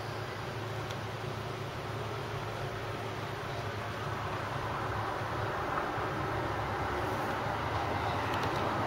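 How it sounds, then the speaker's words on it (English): A Class 317 electric train at Cheshunt station gives off a steady, broad rumble and hiss that holds evenly throughout, fairly close and alone with no voices. "Train on platform 1, 317-502 for London."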